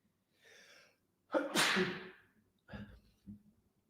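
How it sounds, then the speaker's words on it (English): A single loud sneeze, preceded by a quick breathy inhale and followed by a couple of short sniffs or breaths, close by and otherwise quiet. "Uh-oh, I have to sneeze."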